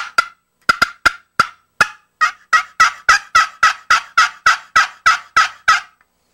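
Wild turkey gobbling in spring woods, a rapid string of about fifteen sharp, rattling gobbles that start sparse and quicken into a steady, loud, close run with no talk.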